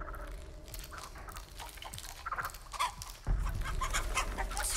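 A chicken clucks in a Texas Chainsaw Massacre video game, giving short, irregular clucks over faint game ambience, followed by a sudden louder low rumble near the end.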